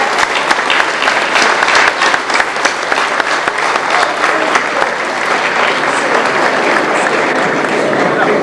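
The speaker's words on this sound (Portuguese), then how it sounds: "Uma salva de palmas para o Jorge Morgado." Steady, dense audience applause at a young bagpipers' festival, loud and continuous with no pauses, filling the hall.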